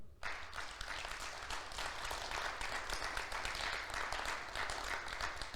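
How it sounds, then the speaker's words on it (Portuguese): A church congregation applauds the Lord together, producing dense, steady, sustained clapping that fills the room at an even level from start to finish. "Você pode aplaudir o Senhor?"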